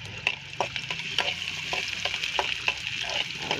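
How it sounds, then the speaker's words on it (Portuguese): Chopped onion fries in a pan as seasoning for a Brazilian okra stew, giving a steady, soft sizzle broken by irregular pops and stirring clicks, with no talking. "Fazer fritar a cebola aqui."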